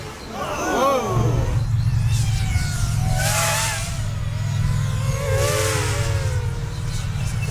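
Race car engine droning steadily through a lap of a four-car knockout race, a sustained loud hum with pitch sweeps as it revs up and down, with a voice talking over it early on.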